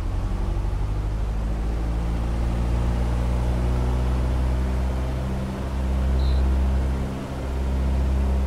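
A steady, loud propeller aircraft engine drone with strong low harmonics runs throughout as the throttle is brought up to 2000 rpm in Microsoft Flight Simulator X, holding constant without speech.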